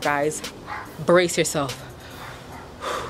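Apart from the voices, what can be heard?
dogs barking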